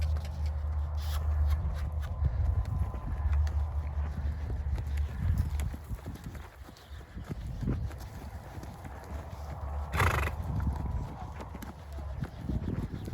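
Horse hooves clip-clopping steadily on the ground of a small round pen during a horse's first ride, close and continuous, with people talking now and then over them.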